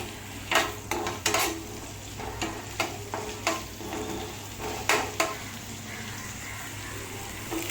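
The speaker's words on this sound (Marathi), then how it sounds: "आलं, लसूण आणि मिरची जी आपण बारीक चिरून घेतली होती ती थोडी ह्या तेलामध्ये टाकायची आणि थोडं सॉटे करून घ्यायचं आहे" Finely chopped ginger, garlic and chilli sauté in hot oil, with a steady close sizzle and a string of rhythmic spoon scrapes and clinks against the pan that thin out toward the end.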